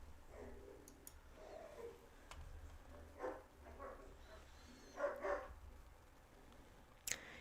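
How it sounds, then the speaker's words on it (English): Dogs barking somewhere away from the microphone, with several short, faint bursts spread through a quiet room and no talking. "Oh my gosh, I think the dogs are fighting. And I know exactly who's barking."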